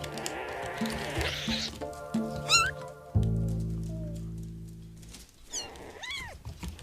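Young domestic kittens meow repeatedly in rising, wavering cries, close and clear, with a sustained low purring or rumbling tone underneath partway through and a few more high mews near the end; no talking.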